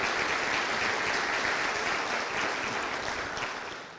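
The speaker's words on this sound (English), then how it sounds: "If we can give them a round of applause." Sustained applause from the audience at a 2012 State of the City address fills the hall, steady and dense before thinning slightly toward the end.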